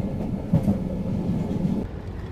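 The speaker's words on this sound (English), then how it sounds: "Please mind the gap between the train and the platform." A London Underground tube train rumbles steadily at a platform, with a low rolling clatter heard fairly close for a couple of seconds before easing off.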